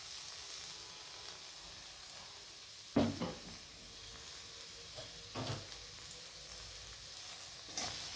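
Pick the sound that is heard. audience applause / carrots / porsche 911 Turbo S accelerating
carrots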